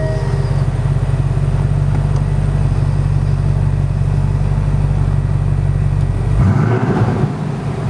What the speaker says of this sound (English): I would like now to show you how the V8 sounds in the Sport Plus modus